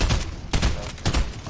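Video game gunfire, a rapid burst of close, loud shots in quick succession with brief gaps between clusters, heard alone without talk.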